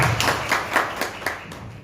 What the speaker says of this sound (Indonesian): Tepuk tangan Bu Wulan, luar biasa.